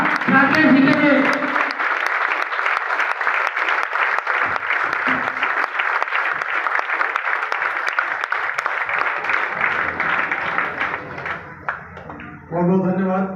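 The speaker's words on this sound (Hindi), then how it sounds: "जोरदार तालियां राकेश जी के लिए।" Loud, sustained applause from a business meeting audience welcoming Rakesh, a company leader, filling the hall for about twelve seconds, with a voice over the claps at the start and again at the end.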